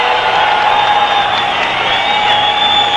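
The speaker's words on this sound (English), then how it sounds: "Tremendous crowd on hand." Large arena crowd at a women's professional wrestling event in Paris, France, 1987, roaring and cheering in a steady, loud, dense wash of voices that continues without a break.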